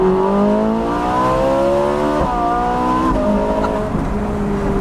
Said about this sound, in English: And that race mode also does open up that exhaust some more.